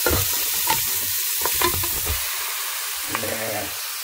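Beef rib pieces frying in a pan for a pasta dish, crackling and sizzling close up with intermittent stirring scrapes, under a soft continuous hiss.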